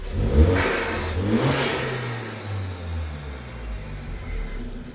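Ford Focus ST MK3 fitted with a facelift engine runs close by, revving up twice in quick bursts and then settling into a steady, throaty idle with further light blips.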